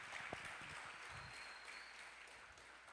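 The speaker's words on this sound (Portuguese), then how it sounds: "Dá um aplauso ao Senhor aí," Church congregation applauding during a worship service, a soft, steady patter of clapping heard at a distance throughout, fairly faint.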